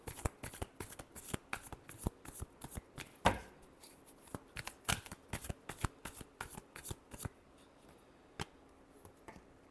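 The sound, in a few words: shuffling tarot cards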